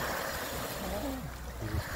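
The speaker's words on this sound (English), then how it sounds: "It's kind of nice to hear the waves, too." Waves lapping on a lake on a windy, cold day, a soft continuous wash of water with wind noise, faint and steady.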